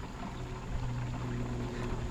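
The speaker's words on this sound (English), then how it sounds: "I'm going to put about 1 gallon of water in here before I put my chemical in" Water pouring steadily into a 4-gallon plastic jug, a continuous close rush with a hollow low rumble and no talk, before weed killer chemical is added.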